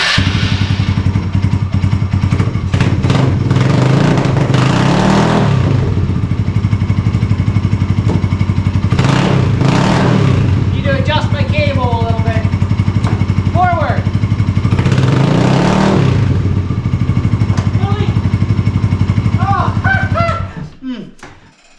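A Polaris RZR 170 side-by-side engine runs close and loud with a steady, throbbing drone. Voices talk over it, and the engine sound cuts off abruptly at the very end.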